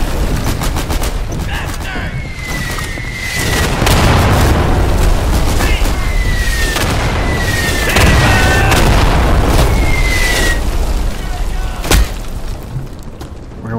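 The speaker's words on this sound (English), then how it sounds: "Whoa, now they're bombing." Bombing explosions in the World War II shooter Day of Infamy during a co-op match: heavy rumbling booms roll over nearly continuous gunfire, staying loud and dense throughout with a sharp crack near the end.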